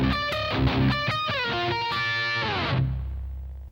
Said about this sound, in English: Now we're going to have a guitar break